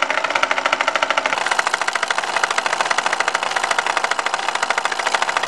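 Model steam boat engine with a big chunky cylinder and piston running steadily, a loud close rapid rhythmic chuffing and knocking that holds an even pace throughout with no talking.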